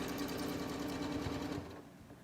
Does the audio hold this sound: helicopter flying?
no